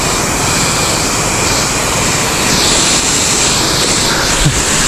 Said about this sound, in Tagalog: mandar na yung makina niya.